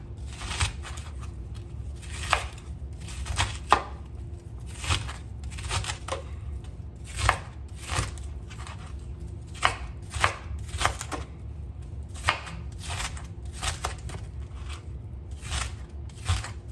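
A large white onion is chopped on a cutting board, knife strikes landing in quick, uneven bursts of close, crisp taps over a faint low hum, with no talking.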